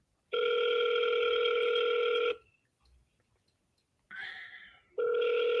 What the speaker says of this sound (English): I'm calling another lead right now.